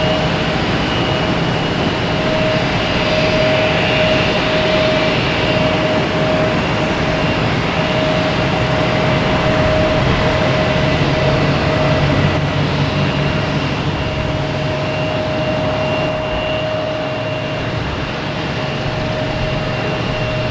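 An SAS airliner jet at Boston Logan Airport produces a steady, loud broadband roar with a constant whine, heard at a distance and holding evenly for the whole span.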